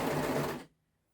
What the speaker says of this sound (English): make sure that your overlocker isn't just overcast in the edge, it's sewing as well